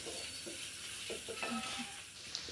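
Onions sauté in coconut oil in a pan, a steady gentle sizzle with a few soft stirring scrapes, close by and without talk.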